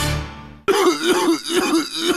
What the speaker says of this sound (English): Sounds like you got a nasty cough